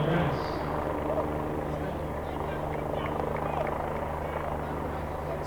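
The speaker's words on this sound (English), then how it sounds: "Oh, the helicopter's leaving now." A helicopter drones steadily overhead above a high school baseball championship game, a constant low rotor hum with a faint tonal whine, while people talk over it throughout.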